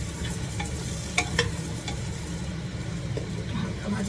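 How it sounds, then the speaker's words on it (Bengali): Food fries and sizzles in a pan in a home kitchen as it is stirred, a steady crackling hiss with a few sharp scraping clicks of the utensil, moderately close and without talk. "হালকা ভাজা ভাজা হতে থাকো"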